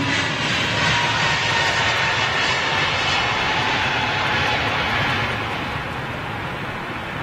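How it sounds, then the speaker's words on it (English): A Boeing 737 jet at London Heathrow, heard as a loud, steady engine roar that fades slightly toward the end. "Very rarely run that 737 in here to Heathrow."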